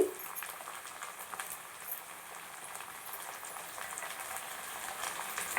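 A soft, steady sizzle and crackle of chopped tomatoes and curry leaves frying in a pan, quiet and continuous throughout.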